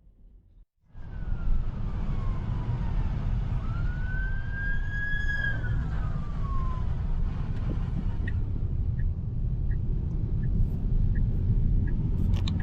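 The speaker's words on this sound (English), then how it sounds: "That was an ambulance coming from behind. You could hear it with the sirens going" An ambulance siren wails from behind a Tesla robotaxi driving in Miami, a rising and falling tone sweeping over steady road rumble inside the car before fading into the drone.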